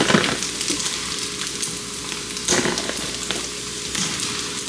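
Food fries in a pan until brown, giving a dense, close, continuous sizzle with occasional crackling bursts and stirring, and no speech.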